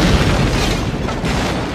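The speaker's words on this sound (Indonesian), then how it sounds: "terjadi ledakan yang besar di kota penebusan" A massive explosion in a town during a Western duel scene, rendered as a loud, dense roaring blast with rumbling debris that fills the whole moment without letup.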